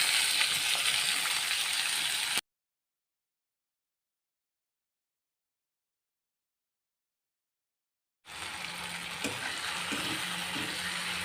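Chopped tomatoes fry in oil over low heat for a fish curry, giving a steady close sizzle in two stretches split by a few seconds of dead silence.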